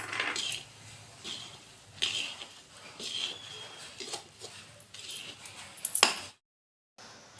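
A spoon stirs milk powder into a thickened papaya burfi mixture in a pan, giving faint, irregular metallic scrapes and clinks. The stirring briefly stops near the end.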